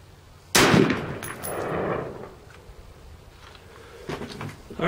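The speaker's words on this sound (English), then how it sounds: "that first shot was the PMC 55 grain full metal jacket" A rifle fires a PMC 55 grain full metal jacket round into a milk jug outdoors: one sharp, loud crack followed by a fading rumble, then quiet with faint rustling.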